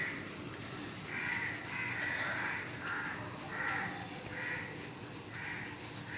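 A crow near its nest with three chicks caws in a string of about six harsh, evenly spaced calls, quiet and somewhat distant against a hissy background.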